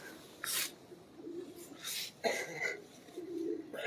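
A breeder's pigeons give soft, low cooing that is broken by a few sharp, noisy bursts, heard close by in a quiet space.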